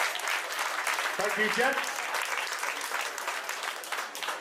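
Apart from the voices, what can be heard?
applause for weightlifters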